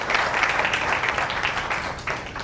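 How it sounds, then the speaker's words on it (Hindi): An audience claps steadily through a spiritual talk on mastering the mind, the dense applause carrying at moderate level and fading slightly near the end. "इस बात पे ताली बनती है बच्चों के।"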